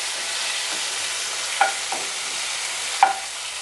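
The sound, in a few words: dried red chillies and onion frying in oil while stirred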